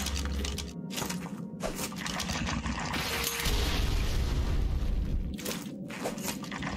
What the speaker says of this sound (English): I think I just use one grenade and these are gone, probably.